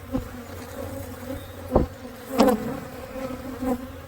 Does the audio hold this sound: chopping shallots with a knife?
no